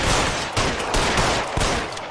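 Rapid bursts of gunfire from a shootout in the 1940s Los Angeles crime video game L.A. Noire: dense, loud overlapping shots, a sustained fusillade filling the whole moment with a few sharper reports standing out.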